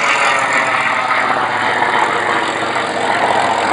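An 18-cylinder air-cooled Pratt & Whitney R2800 Double Wasp radial engine of 2,100 horsepower runs at an airshow, giving a steady, loud, broadband drone that holds without a break.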